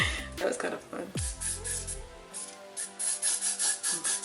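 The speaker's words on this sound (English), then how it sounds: "Spritz it all over the closure." A spray bottle spritzes a closure wig in quick repeated bursts, close and crisp, following rubbing and handling noises and under some faint talking.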